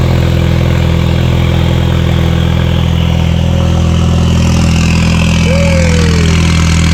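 A loud, rear-wheel-drive Ford Fusion drift car idles in a steady, heavy rumble throughout, close and unbroken, with a faint rising whine near the end.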